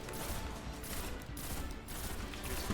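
Gunfire aimed at a Scion sniper during a Destiny 2 Grandmaster Nightfall, a dense run of rapid shots blending into a continuous rattling barrage, moderately quiet and steady over the whole stretch.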